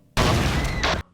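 Loud, sudden explosion in the video game GTA 5, a dense burst lasting under a second with a brief rumbling tail before cutting off.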